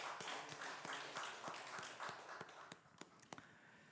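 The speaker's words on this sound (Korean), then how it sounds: "우리 하나님 앞에 영광의 박수 올려드립시다." A church congregation claps during a Korean Sunday worship service. The clapping is faint and distant, a steady, evenly spaced rhythm of hand claps that runs through the whole stretch.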